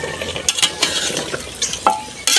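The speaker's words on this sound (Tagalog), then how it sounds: "Haluin na natin." A spoon stirs spicy bulalo in a cooking pot, close and fairly loud, with irregular scraping and clanking strokes against the pot over a faint bubbling simmer and no voices.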